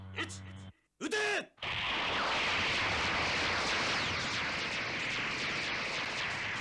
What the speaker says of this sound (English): Okay, so those were beam cannons too.